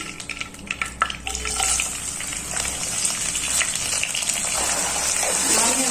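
Mustard seeds, curry leaves and onions hit hot oil in a village kitchen, giving a loud, gushing sizzle that builds and holds steady, with some scraping and stirring early on and no voices.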